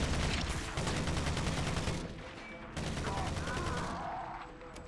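Bursts of pulse rifle fire in Halo CE with the XAM mod, aboard the Pillar of Autumn; two dense, loud rapid-fire volleys separated by a short gap, the second trailing off.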